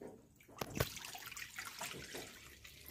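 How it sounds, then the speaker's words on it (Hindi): Water poured into a pan while cooking a brinjal and dal dish, a close splashing, gurgling stream with a few sharper splashes, heard alone. "पानी डालूंगी,"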